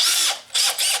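A Makita XPH07 brushless 18V LXT hammer drill spins its chuck closed on a half-inch drill bit, two or three short high whirring bursts close by, with no one speaking.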